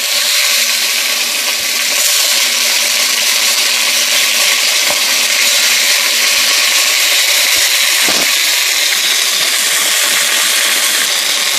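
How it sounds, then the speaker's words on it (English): Beef for chimichangas sears in a smoking-hot pan, a loud, steady, close sizzle broken by a few faint clicks. "And you just want to sear them on both sides."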